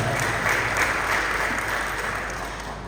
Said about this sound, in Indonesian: Tepuk tangan juga buat Pak Dirjen kita.